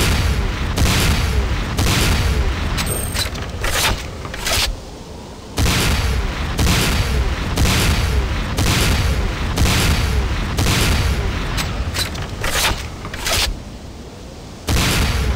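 Rapid bursts of gunfire hammer an obelisk in the Renegade game, loud volleys coming in uneven clusters with brief pauses between them, mixed with heavy booming impacts.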